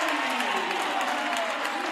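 A basketball crowd at a boys' holiday tournament game claps steadily in rhythm, a dense, continuous, fairly loud wash of applause filling the gym.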